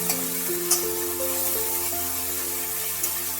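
Blended paste of two medium onions frying in oil in a pan, giving a continuous hissing sizzle with a couple of brief clicks, steady and close throughout.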